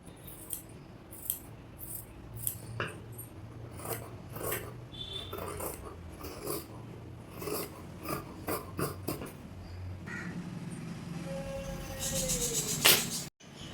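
Scissors cut through fabric for an umbrella-style long frock, giving a series of crisp, close snips and rustles at an uneven pace, with a brief scraping sound near the end.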